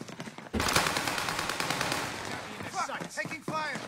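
Video game gunfire rattles in a loud, sustained automatic burst that starts abruptly, and voices chatter over the end of the shooting.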